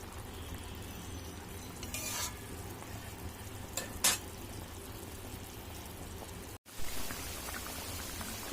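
Coarsely cut fried onions, darkened from earlier frying of fish and pointed gourd, land in a pan with rohu fish and soft potatoes, raising a steady close sizzle with brief stirring scrapes and no talk.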